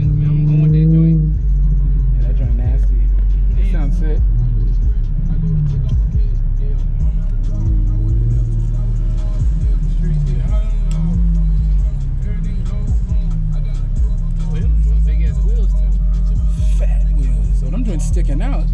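An Infiniti G35 with its muffler deleted gives off a loud, deep, steady exhaust rumble with slight swells in revs, while people talk over it.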